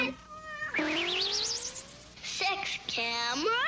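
Several cats meow in quick succession, with rising and warbling cries close up and one long wavering call. A faint voice can be heard underneath.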